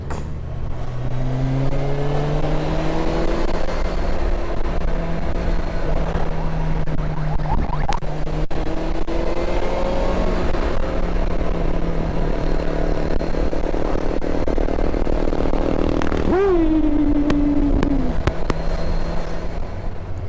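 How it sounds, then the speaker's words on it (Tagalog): Road traffic in Iba, Zambales, in the Philippines: a continuous loud engine drone with vehicles rising and falling in pitch as they pass close by, and a brief tonal horn-like whine near the end. "Traffic."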